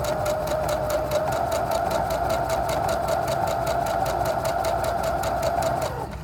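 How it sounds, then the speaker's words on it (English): Sewing machine stitches a straight line across quilt fabric in a fast, even rhythm of close needle strokes, running steadily for about six seconds before slowing at the end. "we're gonna be sewing another line all the way down"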